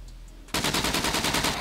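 Rapid automatic gunfire in the video game SCUM cuts in after a quiet half second, a loud, steady burst of evenly spaced shots lasting over a second with no talk.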